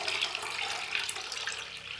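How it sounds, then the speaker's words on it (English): Birch water pours into a crock pot slow cooker in a steady, close splashing stream with no pauses. "we're going to add our birch water to this crock pot slow cooker"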